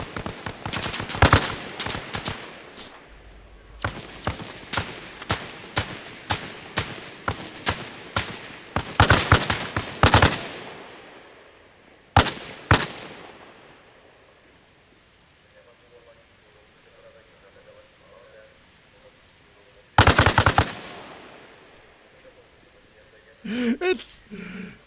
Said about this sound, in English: the AK here is almost like the AK in Counter-Strike. You just aim down, start spraying